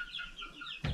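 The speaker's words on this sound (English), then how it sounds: "You get out of there, bad chicken." Homestead hen giving a short series of soft, quiet clucks, followed by a brief louder thump or rustle at the end.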